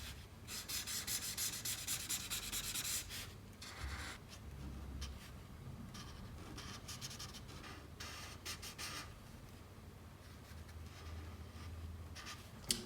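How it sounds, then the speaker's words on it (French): A dark red colored graphite pencil shades on paper, giving a continuous close scratchy rubbing with bursts of brisk back-and-forth strokes, then lighter, sparser scraping, and no one speaks. "J'utilise ensuite le rouge des graphites qui est bien plus foncé pour venir mettre de l'ombre."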